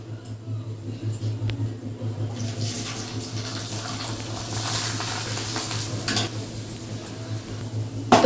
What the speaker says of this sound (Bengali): তো এই সাবু পাঁপড় ভাজা হচ্ছে